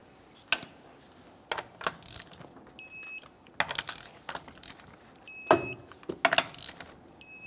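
A torque wrench clicks as it tightens wheel lug nuts, sharp metallic ratcheting bursts and clicks arriving in irregular clusters, close by, with no talking.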